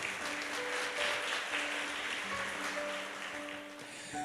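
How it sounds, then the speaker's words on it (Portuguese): Congregation clapping inside a church, a steady wash of applause sustained throughout with faint tonal hum beneath, fairly distant and even. "Vamos aplaudir a poderosa palavra de Deus."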